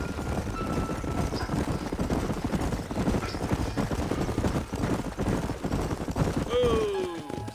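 Horse hooves clop over a busy, rumbling soundscape in the Western video game Red Dead Redemption, steady and mid-distance, with a rising tonal sweep near the end.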